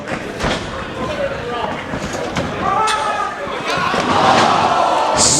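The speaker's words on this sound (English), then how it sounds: "Running back double stomp, beautifully done" A wrestler lands a running double stomp in a ring during an independent wrestling match, a sharp thud amid repeated impacts and a loud roaring crowd, with a commentator talking throughout.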